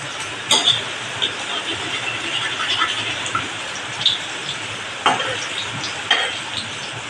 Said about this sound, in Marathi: आपण हे तळून घेणार आहोत.